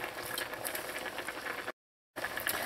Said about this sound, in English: I'm just going to let this fry up in here for about 5 minutes